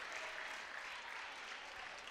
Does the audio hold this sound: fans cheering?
yes